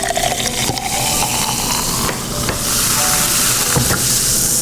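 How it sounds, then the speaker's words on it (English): Soda from a SodaStream fizzes and crackles with a dense hiss while being poured, close and loud, with a few clinks and splashes and no talking. "That one has a really nice fizz to it."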